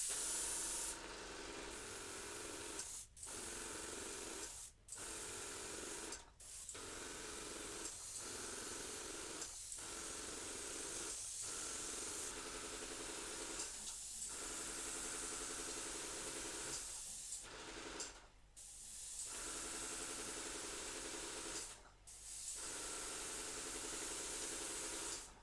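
Airbrush spraying thinned purple paint onto a 3D-printed Elden Ring Rellana figure, a steady close hiss of air that carries on almost without pause, cut by a handful of short breaks where the trigger is released.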